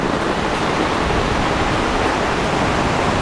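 Flooded river in Konkan during heavy monsoon rain, a loud, unbroken roar of rushing water filling the whole soundscape with steady broadband noise and no voices.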